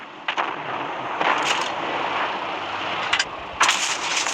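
Tank guns firing in the World of Tanks video game, with a Nashorn tank destroyer in play: several sharp booming shots at irregular intervals over a steady rumbling engine and battle background, without talking.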